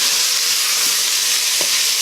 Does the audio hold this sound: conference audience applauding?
no